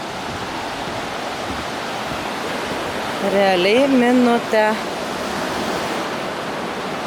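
Baltic Sea waves washing onto the beach at Jurmala, Latvia, as a constant broadband surf roar with wind, while a voice speaks briefly in the middle.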